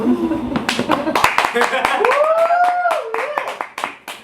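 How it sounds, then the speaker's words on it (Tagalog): Handclaps from a small live studio audience at a podcast recording, several sharp distinct claps scattered over talking voices, close and fairly loud. "palakpak naman kayo sir"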